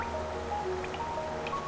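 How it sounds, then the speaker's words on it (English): Steady rain falling in a cavernous underground city in Hollow Knight, a soft continuous patter of drops and trickles with faint splashes, gentle and even throughout with no voices. "The city looks to be built into an enormous cavern, and the rain pours down from cracks in the stone above."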